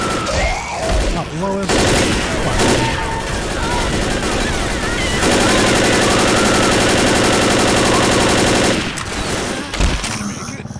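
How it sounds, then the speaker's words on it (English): Sustained rapid automatic gunfire in the video game Left 4 Dead rattles loudly for several seconds, with bursts of shooting and explosive noise and no clear talking. "zombies yelling, bullets."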